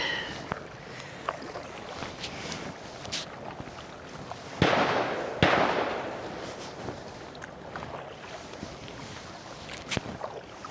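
A few sharp cracks of distant gunshots, spaced irregularly, over steady outdoor wind and water noise on a river during a kayak trip.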